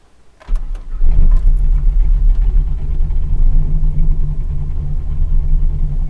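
A tuned car engine cranks briefly and fires, then settles into a loud, close, steady rumbling idle with no talk.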